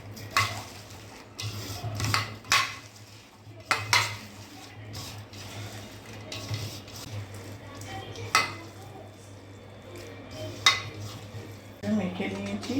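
Onions being rubbed and mixed by hand with a little turmeric in a bowl for Bengali onion pakora, giving soft irregular squelching and rustling with occasional sharper clinks against the bowl, close and fairly quiet over a steady low hum.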